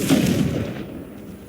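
Confringo explosive fire spell in the video game Hogwarts Legacy, a single loud close blast that fades into a rumbling decay within about a second.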